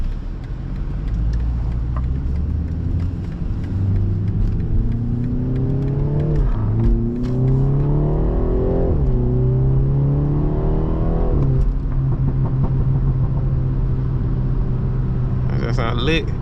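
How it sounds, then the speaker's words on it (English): A tuned BMW 330i four-cylinder with stock exhaust and 340 hp drones loudly and steadily, with its revs climbing in several surges through the middle and again near the end. "This is the stock exhaust with just a tune."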